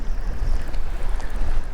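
Wind gusting over open water on a fishing outing, a steady low rumble of buffeting air against the microphone with faint wave wash underneath, continuous and fairly loud throughout.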